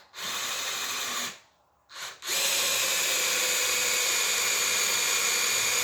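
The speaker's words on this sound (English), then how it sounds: "Now for perpendicular, I'm watching the end of the drill tip." Power drill boring a dowel hole in wood: a loud, steady high-pitched whir starts, stops briefly for a short pause and a quick burst, then runs on continuously close by.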